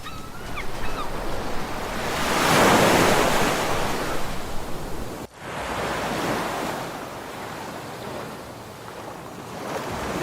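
Stormy ocean surface with heavy waves surging and crashing under gusting wind, a broad continuous roar that swells and then eases, with wind buffeting the microphone and no voices.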